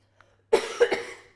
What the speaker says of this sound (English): But I knew another cough was coming